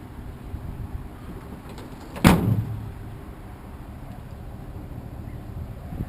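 The power tailgate on a 2019 Chevrolet Silverado 1500 RST lowers itself, a sharp mechanical clunk followed by a brief whirring descent over steady outdoor background noise.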